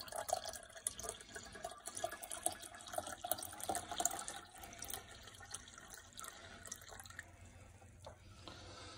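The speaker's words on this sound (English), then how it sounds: "I add my starter tea, my starter juice, and I'm spilling it everywhere." Starter tea being poured into a batch of homemade kombucha, a steady trickling and splashing of liquid with scattered drips from spilling, moderately close and alone without talk.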